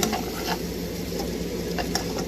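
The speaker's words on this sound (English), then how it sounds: "Stir that in with the butter." Food being stirred in a pan with butter, a soft steady sizzle with faint scraping and light clinks near the start, middle and end, up close and without speech.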